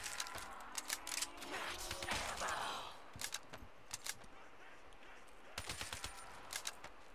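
Gunfire in Black Ops 3 Custom Zombies on the Day of Survival map: sharp rapid shots crackle in short bursts, a louder sustained volley roars mid-way, then more scattered cracks follow, all moderately quiet and without talk.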